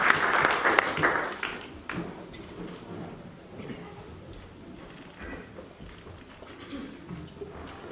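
Applause from an audience at a poetry gathering, loudest in the first couple of seconds and then thinning and fading while people talk over it.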